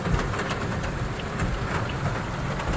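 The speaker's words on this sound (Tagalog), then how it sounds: "Ang lakas ng ulan." Heavy rain pours in a dense, continuous roar of close drops that stays loud and even throughout, with no voices.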